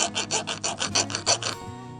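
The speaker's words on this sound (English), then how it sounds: "all I do is I get a file and I file that until it's flat" A hand file rasps against a chainsaw chain in about ten quick, rhythmic back-and-forth strokes, close up and bright, then stops abruptly.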